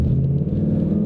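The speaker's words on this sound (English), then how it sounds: "this is a busy highway, and I don't want to die from the cross traffic" Steady, loud low rumble of cars rushing past on a busy highway near AT&T Stadium, a continuous close traffic roar with no voices.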